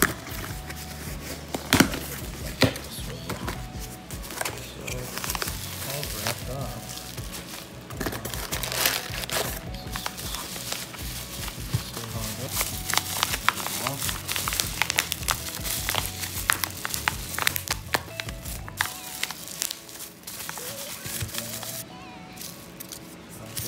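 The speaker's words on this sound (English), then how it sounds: "So the box came in. I'm gonna open it." A cardboard shipping box from a bullion dealer, holding silver coins, is cut and opened by hand: dense crinkling, tearing and scraping rustles run close and steady throughout, with a quieter stretch near the end.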